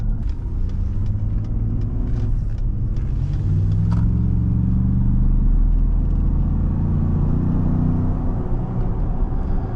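A Ford F-150 pickup truck accelerates at partial throttle, heard from inside the cab as a loud, steady low engine rumble that swells gradually, with no talking.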